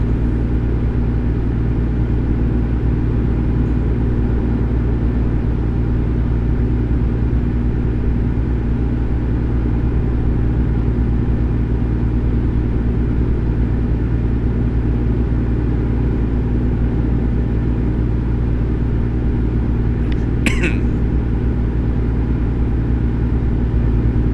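A truck cruises along a highway in American Truck Simulator, a loud, unbroken low engine rumble and road drone holding steady throughout, with one brief sharp click near the end.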